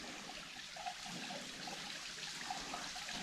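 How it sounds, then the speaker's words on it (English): A small outdoor waterfall flows in a steady, soft, even rush of splashing water, faint and continuous throughout with no voices. "there's a little bit up close view of the waterfall"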